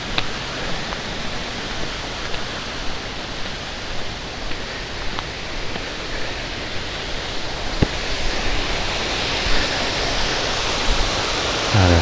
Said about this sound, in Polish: Tu już dochodzimy do wodospadu.